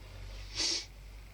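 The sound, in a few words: sniffing from a person with a cold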